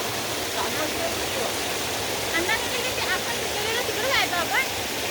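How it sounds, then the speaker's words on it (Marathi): A flowing stream rushes steadily as a constant broadband wash, with voices talking over it intermittently. "हा बघा आमचा वाहता झरा."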